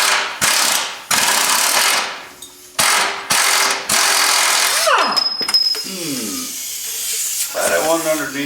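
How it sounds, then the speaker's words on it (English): A ratchet on a 21 mm socket works a bolt loose in repeated bursts of rapid clicking, close and loud. Short pauses fall between strokes, and a voice talks briefly near the end. "Just gonna pull the 1 bolt right here and the 1 bolt on the opposite side."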